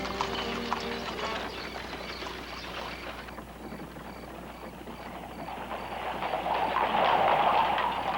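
Horse-drawn carriages clip-clop along the streets of Luxor, Egypt, with steady hoofbeats under a wash of street noise that swells louder toward the end.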